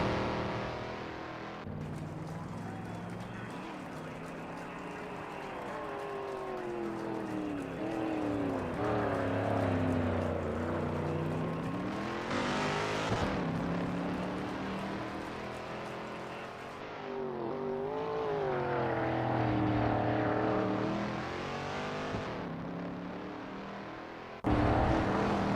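AC Cobra race cars warming up at Road America in Assetto Corsa, engines revving and rising in pitch in repeated sweeps, a loud close engine drone with several accelerating surges.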